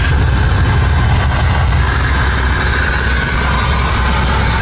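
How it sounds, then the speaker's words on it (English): A manual-transmission training truck idles just after start-up, a loud, steady low diesel rumble heard close up with no voices over it. "So far, I started my truck"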